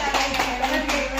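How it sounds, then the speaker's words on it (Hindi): A short burst of loud clapping from a crowd honoring a woman, brief and dense, with no break. "जोरदार तालियां"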